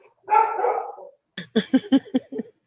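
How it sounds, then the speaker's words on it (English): Dog barking indoors, a longer rough vocal burst followed by a quick run of about five sharp, loud barks close by. "And him and Grace bark off of each other."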